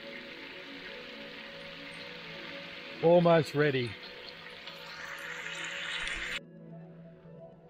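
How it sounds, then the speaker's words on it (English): Food sizzles in a pan over a campsite fire, a steady soft hiss and crackle throughout, with a person speaking briefly near the mic and a brighter hiss swelling for a few seconds. "can you hear that sizzling away?"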